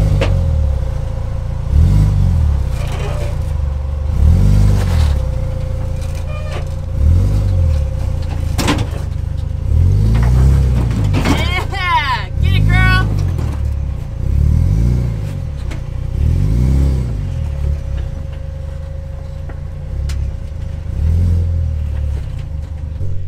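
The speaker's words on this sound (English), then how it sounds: "that is actually Lauren's 15-year-old daughter that is driving the Funhaver Ranger" An off-road Ford Ranger engine on the rocky Rubicon Trail during a Jeep Jamboree, revving again and again in rhythmic surges with clattering and creaking over a sustained loud drone, heard up close with no talk.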